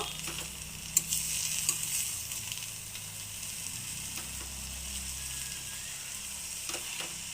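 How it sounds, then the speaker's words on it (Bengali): Kochu leaf bharta is stirred in a small pan, with soft sizzling underneath, a few sharp scraping and clinking strokes standing out, and a low hum in the background. "এখন লেড়ে দিব"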